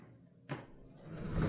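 A door indoors is pushed shut with a single soft thud, followed by a rising low rumble of room noise; quiet overall, no voices.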